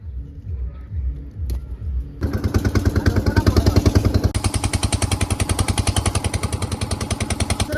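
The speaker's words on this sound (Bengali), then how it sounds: "আমরা নৌকা স্টার্ট করে আমরা বেরিয়ে গেছি" A small boat's engine on a Sundarbans river catches and settles into a loud, close, rapid chugging rhythm that runs steadily to the end.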